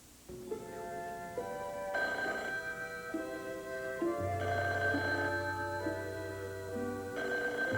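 An old-fashioned telephone bell rings in repeated bursts over a televised soap opera scene, loud and close, with tonal background music layered beneath.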